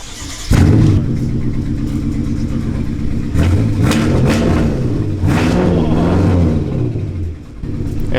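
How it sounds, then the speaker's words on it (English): BMW M5 F10 with a dead battery cranks and fires on a jump start, then settles into a loud, close rumbling idle with brief blips of revving. "The battery is dead, so we're gonna jump start the car and see what happens."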